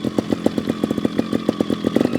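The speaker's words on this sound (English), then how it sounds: "Choke is on, engine's getting warmed up" A GasGas TXT 300 trials motorcycle engine idles with the choke on while warming up, giving a rapid, steady, buzzy pulsing close to the microphone.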